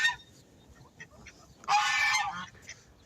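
A Guinea goose gives a loud, harsh honk near the end, with fainter honks and calls earlier, close by.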